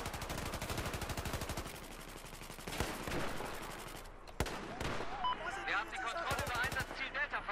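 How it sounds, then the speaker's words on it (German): Rapid gunfire and sniper shots in a Battlefield 4 multiplayer Conquest match on Nansha, with dense bursts of automatic fire, sharp single cracks and explosions, loud and continuous under occasional voices. "Ich hab auch einen Sniper gehört."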